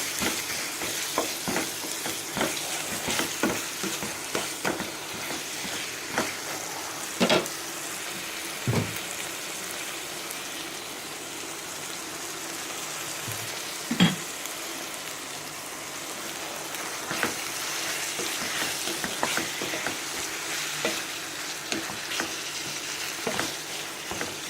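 Minced mutton keema frying in a pan, Madurai style, with a steady close sizzle and repeated scraping, clacking stirs at irregular intervals throughout, with no talking.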